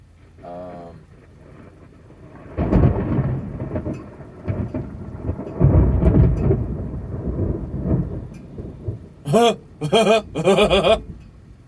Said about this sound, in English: I ain't heard thunder in a long time.